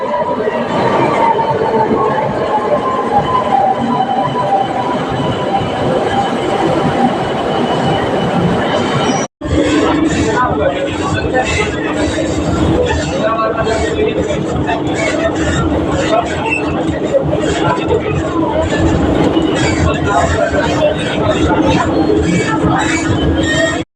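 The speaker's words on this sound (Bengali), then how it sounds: "এটা যাবে দক্ষিণেশ্বর মেট্রো।" A Kolkata metro train bound for Dakshineswar rumbles loudly and steadily up close, with wheel noise and a brief cut midway, as a voice speaks over it.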